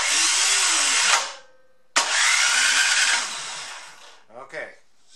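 An old snowblower under repair, started outdoors in the rain with its electric starter, roars loudly with a rough engine drone. It cuts out briefly, catches again and runs before fading, with a voice heard near the end.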